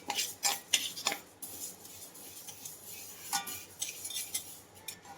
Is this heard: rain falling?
no